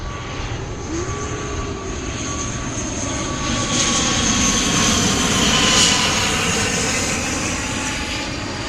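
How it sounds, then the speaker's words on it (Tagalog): Airplane engine roaring overhead above a rose garden in Taipei, loud and sustained throughout, swelling slightly mid-way as it passes, with no talk. "Ayan, may aeroplano na naman."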